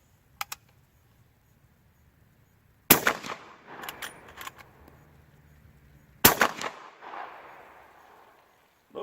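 Suppressed .44 Magnum lever-action rifle fired outdoors, rounds slightly supersonic: two loud sharp shots with a crack and short rumbling tail, preceded by faint mechanical clicks of the lever action.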